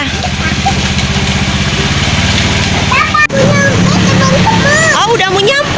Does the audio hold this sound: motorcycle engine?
yes